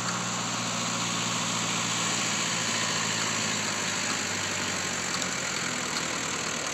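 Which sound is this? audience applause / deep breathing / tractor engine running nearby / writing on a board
tractor engine running nearby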